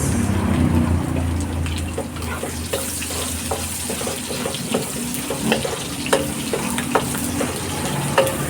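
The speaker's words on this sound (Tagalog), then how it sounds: "Lalagay naman natin itong sibuyas." Onion hits a hot pan for chop suey and sizzles loudly and steadily, while a utensil stirs and taps against the metal in short, irregular clicks.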